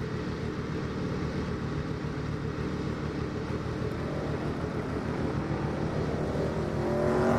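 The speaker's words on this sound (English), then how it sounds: "I hear that beautiful Corvette going by." Corvette race car in Automobilista 2 passing by during a sportscar championship race, a steady broadband engine roar that holds level and swells louder toward the end as it draws near.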